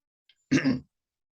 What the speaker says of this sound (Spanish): tengo una tos pegada